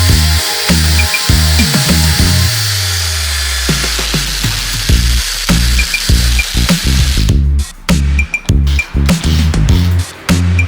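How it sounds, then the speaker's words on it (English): Rubber eraser wheel on a drill scrubbing badge adhesive residue off a new G20 BMW, a loud whirring drone that rises and falls in pitch as the wheel presses on and lifts off, with short bursts toward the end. "we just gotta clean up that with the rubber wheel"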